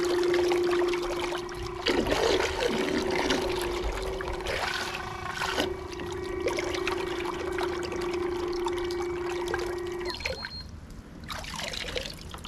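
A Bixpy J-2 outboard motor runs submerged in water inside a cooler, giving a steady close whirring hum with a bubbling, trickling churn of water throughout, briefly easing near the end.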